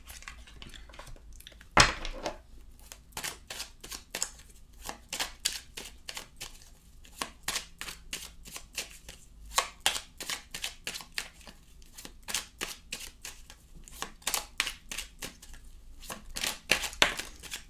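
Petit Lenormand oracle cards are shuffled and drawn by hand, a long run of quick, crisp clicks and flicks that comes in irregular bursts close to the ear.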